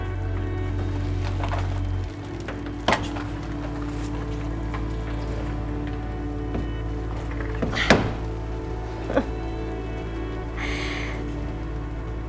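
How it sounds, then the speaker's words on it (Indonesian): Rain falling as a steady, even hiss of drops on a surface, with a low hum beneath and a few scattered knocks and thuds during the downpour. "hujan lagi."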